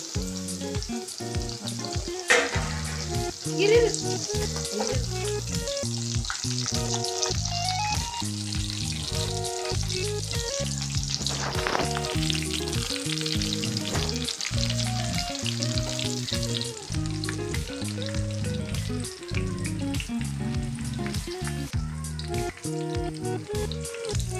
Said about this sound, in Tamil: பூண்டு கூட நல்லா வறுக்க ஆரம்பிச்சிச்சு